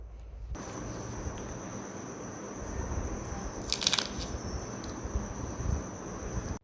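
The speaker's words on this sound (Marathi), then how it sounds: "इथे याच्या आवाजावरून आपल्याला कळून येईल हे पहा" Crispy fried namak para snack being bitten and crunched, quiet crackly crunches over low background hiss, with a sharper burst of crunching in the middle, close and alone.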